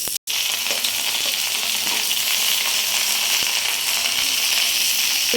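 Washed drumstick leaves dropped into hot tempering oil for a greens stir-fry, giving a loud, dense, continuous sizzle close up, with faint crackles and stirring taps and no talking.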